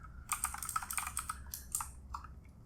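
Fingers typing code on a computer keyboard: soft, quick clusters of key clicks in uneven bursts with brief pauses, close and quiet, no voices.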